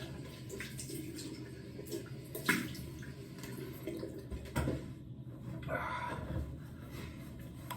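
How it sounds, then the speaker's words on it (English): Water splashing and sloshing during washing with soap, close and irregular, with scattered splashes and trickles and a brief running-water stretch. "Splash, splash."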